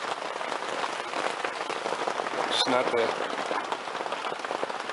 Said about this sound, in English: In the 40s, raining hard.